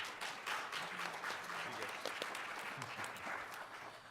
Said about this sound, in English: So can you give our panelists a round of applause?